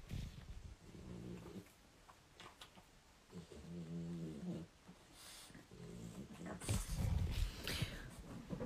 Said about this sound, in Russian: кто у меня храпит за кадром. Это моя собака.